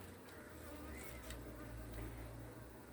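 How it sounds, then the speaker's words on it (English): Bees swarm around an open beehive being checked while a new queen is raised, giving a faint, continuous buzzing drone with a few louder passes close by, no voices. "You can see the bees are a little bit frightened."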